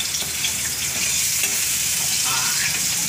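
Garlic sizzles and crackles steadily in a hot pan, a dense close-up frying hiss with occasional stirring scrapes and no talk over it.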